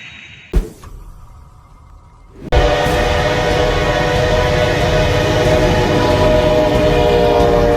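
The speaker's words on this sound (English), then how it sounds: "A little snow on the tracks. This formidable train plowed through it like it was nothing." A heavy train pushes through snow on the tracks, starting with a sharp thump and a quieter passage, then a sudden loud, sustained roar of rolling rail noise and rushing snow that holds steady to the end.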